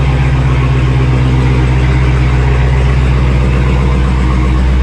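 A 2018 Dodge Charger Hellcat engine runs loud and close, a deep steady idle rumble with a slight rise in revs, with no talking over it.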